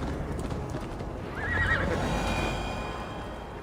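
Rhythmic hoofbeats of a galloping horse in the game Assassin's Creed Valhalla pound steadily, and a high whinny rises clearly partway through, close and loud.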